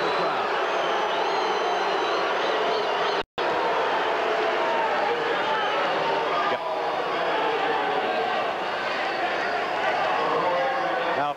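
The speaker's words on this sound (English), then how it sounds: "Now listen to the crowd." A basketball arena crowd roars at a foul call during a 1978 Lakers at Warriors game. The loud, continuous crowd noise is dense and sustained and carries on with a commentator speaking over it.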